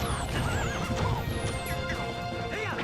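A horse in The Legend of Zelda: Twilight Princess HD whinnies repeatedly over a steady clip-clop of galloping hooves, loud and continuous, with bright swooping game effects in the background.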